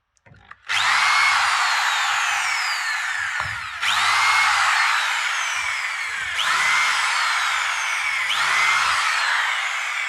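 Power drill with a countersink bit boring into wooden boards, four loud whining bursts each starting sharply and running a second or more, separated by brief gaps; close and harsh.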